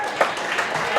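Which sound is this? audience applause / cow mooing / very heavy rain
audience applause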